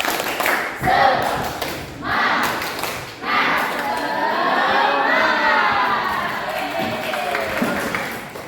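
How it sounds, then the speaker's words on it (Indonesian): Schoolchildren in an Indonesian classroom shout and cheer together in a loud, lively burst, with thumping claps and excited voices rising and falling across the whole stretch. "tepuk semangat"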